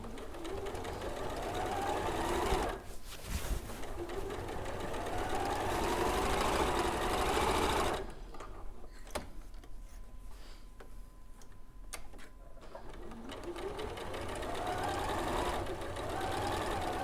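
Sewing machine stitching a second diagonal line half an inch from the first across quilt fabric, a steady loud whirring run that pauses briefly, then continues, stops for several seconds of quieter room tone, and starts again.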